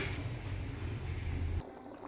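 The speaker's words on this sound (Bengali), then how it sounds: "এটা 10 মিনিটের জন্য ফুটবে।" A duck egg and potato curry boils in a pot after water is added to the fried spices, giving a steady, close bubbling rumble that cuts off abruptly near the end.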